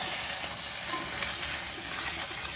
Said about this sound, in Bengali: আমি ভালো করে কষবো মশলাটা